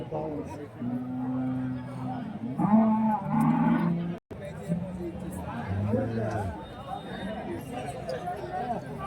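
HF and Jersey dairy cows low and moo at a busy cattle market in Santhipuram, Andhra Pradesh, their drawn-out calls rising repeatedly over steady crowd chatter and nearby talking.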